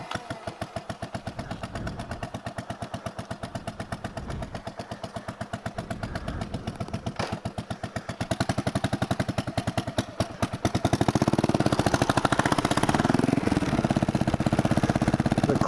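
A 2003 Buell Blast P3 single-cylinder motorcycle idles with a steady, loud thumping pulse, then revs higher and louder, running continuously close by.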